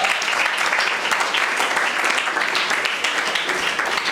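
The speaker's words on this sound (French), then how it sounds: "Vous pouvez applaudir pour elle." A conference audience at a youth leadership event claps in steady, dense applause that fills the room at an even level for a few seconds.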